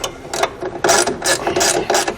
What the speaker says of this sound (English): we'll come back with our 7/16 socket and wrench and tighten them into place.